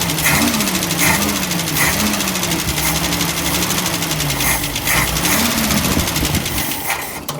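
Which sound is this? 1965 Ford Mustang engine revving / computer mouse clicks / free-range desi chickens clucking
1965 Ford Mustang engine revving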